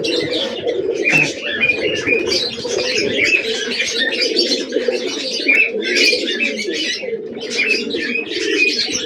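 Free-flying pigeons gather at morning feeding, a dense chorus of low cooing mixed with bright chirps from other birds. The sound is steady and fairly loud throughout, with no speech.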